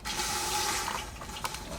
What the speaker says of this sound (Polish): teraz musimy nalać, nalać wody do tego zbiornika tutaj dookoła